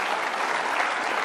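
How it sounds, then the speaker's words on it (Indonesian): A studio audience applauds throughout, a dense, even wash of many hands clapping at close range with no break. "Oke, kita tepuk tangan."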